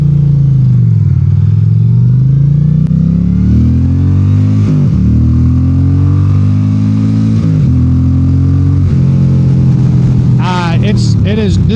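A 2025 Indian Roadmaster PowerPlus Dark Horse bagger motorcycle revs up through the gears toward a 6,500 rpm redline, its loud, close engine note rising and dropping with each shift.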